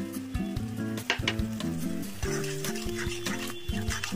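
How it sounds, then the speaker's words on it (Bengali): Spice paste with ground nuts and yogurt paste frying in a pan, a close sizzle with stirring scrapes, layered over a steady tonal hum. "এবার এই মশলাটাও খুব সুন্দর করে কষে নেব"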